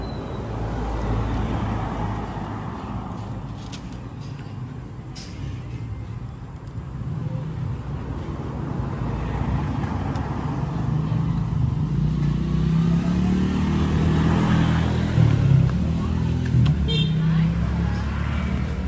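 A carbureted Raider 150 motorcycle warms up, its engine running steadily close by with a low, even drone that swells slightly in the second half, a few light knocks and handling noises over it.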